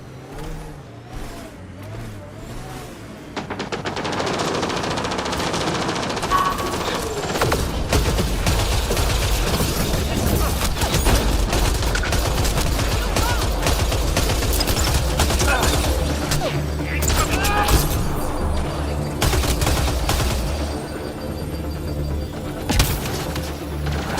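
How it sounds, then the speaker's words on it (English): Heavy weapons fire from Mass Effect: Andromeda rattles in long, dense bursts mixed with engine-like rumble and impacts. It is sustained and fairly loud, with a brief voice near the start. "Pathfinder, I detect heavy weapons fire nearby."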